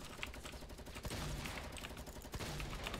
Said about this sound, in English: He's just running up and shooting on me.